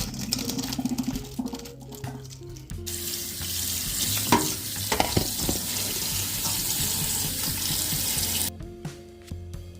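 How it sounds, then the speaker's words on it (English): Pasta water pours from a pot into a kitchen sink, a steady rushing splash with a running-tap quality that holds nearly the whole stretch, broken by a few clatters and knocks before the flow cuts off near the end. "Now it's time to drain this pasta."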